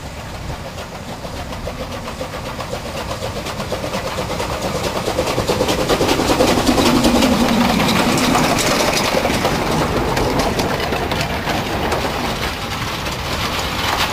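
A brickworks railway train in China works through a fly shunt, its engine rumbling low and steady and swelling gradually louder as it passes close, with no talk over it.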